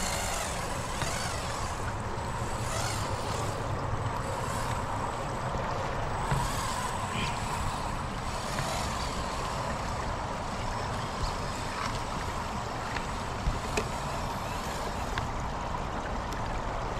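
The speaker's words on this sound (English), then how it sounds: "A little bit of a stream or something running here." A small stream of running water trickles along an outdoor trail, a continuous broadband wash of moderate level with faint scattered knocks and rustles mixed in, with no voices.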